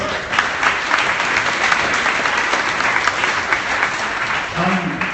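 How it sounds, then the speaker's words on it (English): Loud, continuous applause fills a room at a startup pitch night, with a voice briefly audible near the end. "Big round of applause, please."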